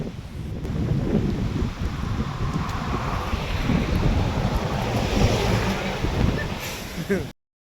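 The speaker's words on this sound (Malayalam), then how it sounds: "അപ്പോഴാണ് ഇങ്ങനെ കാറ്റ് കിട്ടിയത്" Strong wind gusting through Bandipur forest, a steady roaring rush that buffets the microphone throughout, with faint voices underneath.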